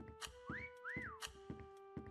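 In the video game Meccha Chameleon, a rising and falling whistle sounds twice in quick succession among regular soft thumping beats, fairly faint, with no speech.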